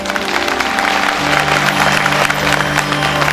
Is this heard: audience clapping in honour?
yes